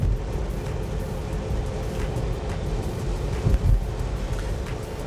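Steady low rumble of road noise with rushing air inside a moving Tesla electric car, continuous and fairly loud, no engine tone, no voices.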